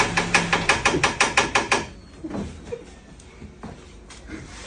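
A car engine knocks in a fast, evenly spaced series of about a dozen loud metallic taps. The knocking stops abruptly and is followed by quieter rustling and a few scattered thuds.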